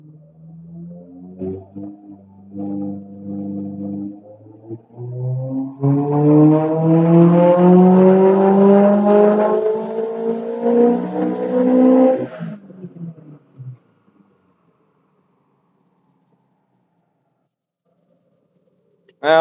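Subaru STi engine with EFR turbo revving hard on a tuning run, a loud rising rev that holds a strained, droning high-rpm pitch for several seconds before cutting off abruptly into silence.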